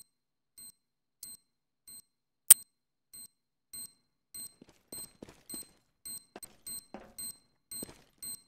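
Planted bomb in CS:GO beeping in a steady, evenly spaced series of short high beeps, about a dozen over the stretch, with faint clicks and quiet game noises between them.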